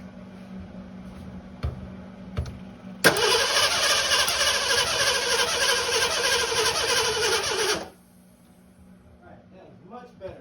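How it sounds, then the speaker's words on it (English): Starter cranking the engine of a Continental Mark VI with low compression: a loud, steady whirring crank of about five seconds that then cuts off, close by, with a few faint clicks before it. "Let's crank it over one more time, and then we'll put everything back before we actually officially start it."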